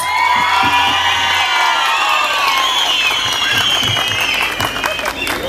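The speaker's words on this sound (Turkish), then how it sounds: "Bir de kendinizi kocaman ıslıkla alkışlar mısınız?" Concert crowd at a Turkish folk music event applauding, cheering and whistling loudly, with sharp whistles riding over dense sustained clapping close by, and a voice speaking over the start.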